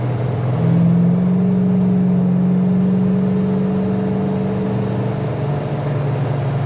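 A 1967 Pontiac LeMans GTO cruising on the road at about 65 mph, a steady low engine drone and road rumble from inside the car, holding even throughout with no talk.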